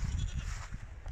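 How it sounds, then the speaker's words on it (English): Sheep bleat in a field at the back of New Hill Farm near Dilhorne, several soft, wavering calls heard from a modest distance against quiet outdoor air. "sheep at the back"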